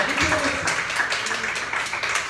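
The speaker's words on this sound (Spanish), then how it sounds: "¿Qué tal si le damos un aplauso al Rey, amado hermano?" A church congregation claps for the King in a steady, rhythmic patter of applause, moderately loud, mixed with a voice speaking over it.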